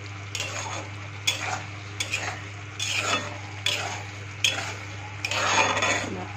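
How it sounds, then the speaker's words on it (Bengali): A spatula scrapes and stirs leaves around a pan as they cook down dry, repeated metallic strokes over a low sizzle and a steady background hum. "নাড়তে নাড়তে একদম শুকনো বাটার মতন করে দেবেন"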